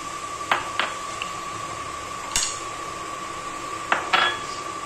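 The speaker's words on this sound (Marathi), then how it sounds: "आणि स्टीलच्या कढईमध्ये ना पटकन लागतो तो, असं पटापट हलवावं लागतो." A spoon or spatula stirs semolina roasting for upma in a steel wok, giving a few sharp metallic scrapes and clinks spread over a steady background hum, with no talking.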